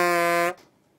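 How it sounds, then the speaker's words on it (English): A short, loud horn-like buzz used as a comedic sound effect, a single steady harmonic blast lasting about half a second and then cutting off abruptly into near silence. "That was the dirty word honk"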